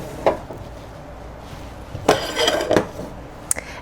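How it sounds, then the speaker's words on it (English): Pans shifted between back and front stove burners while making a white sauce, with a sharp clank, then a longer scraping clatter and a brief metallic tap near the end. "So I'm going to sit this on the back burner and move a smaller pan to the front burner."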